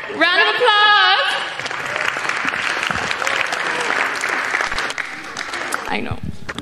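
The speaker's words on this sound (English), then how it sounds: "Oh, we got a winner here! Round of applause!" Guests at a wedding reception applaud a game winner, a loud sustained round of clapping with cheering voices and shouts over it, starting right after an excited call.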